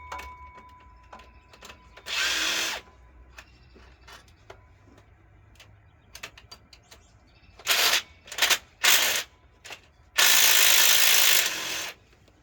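Ratchet removing bolts from the water pump on an LS-swapped Squarebody truck, several bursts of rapid clicking separated by quiet gaps, close and loud, with a longer final run of ratcheting.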